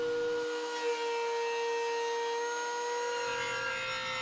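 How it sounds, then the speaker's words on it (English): Steady machine whine of a thickness planer running on a walnut board with mixed sapwood and heartwood, loud and continuous for a few seconds with no talking. "Planing that down"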